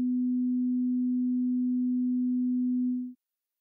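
A 250 Hz test tone, played while placing studio monitors, hums as one pure, steady low-mid sine for about three seconds at even loudness before stopping abruptly, with no talk.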